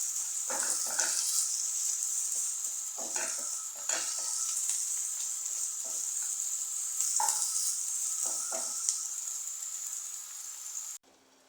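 Grated carrot frying in a pan, a loud continuous hiss of sizzling oil with intermittent stirring scrapes and clinks, cutting off abruptly at the end.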